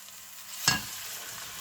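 A soft, steady sizzle of onion, ginger and garlic frying in a pan, with a brief stirring scrape partway through.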